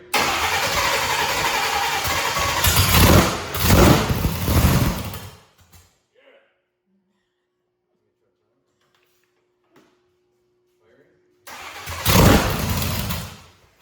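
An engine with one spark plug's porcelain cracked cranks and fires in two loud rumbling bursts, a long near-silent gap between them, with voices calling out over the first burst.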